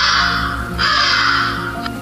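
A loud, close crow caws in two long harsh calls with a brief break between them, standing alone with no voices.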